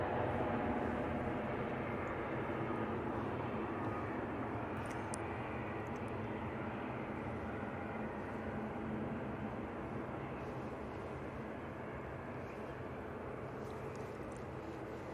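A Ryanair airliner sits on the runway at Manchester Airport, its engines giving a steady, distant broadband rumble and hiss that holds evenly throughout with no talking.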